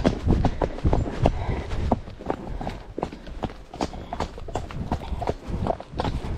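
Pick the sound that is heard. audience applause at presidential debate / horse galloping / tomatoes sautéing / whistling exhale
horse galloping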